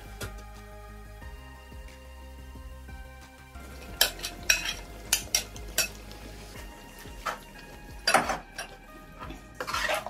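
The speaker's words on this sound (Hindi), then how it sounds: "पालक के साथ ही फ्राई करेंगे इसको।" Spinach and egg gravy cooks in a pan, with a soft sizzle at first and then several loud, irregular spoon scrapes and clanks against the pan as it is stirred and fried.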